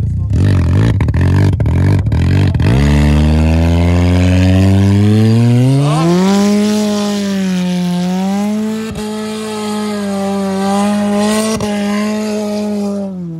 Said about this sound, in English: Let's do a burnout and let's get out of here.